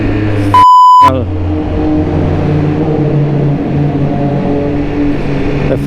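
Triumph RS 1200 Speed Triple motorcycle pulling hard in first gear, its engine note rising steadily and loud up close, broken early by a brief electronic beep tone.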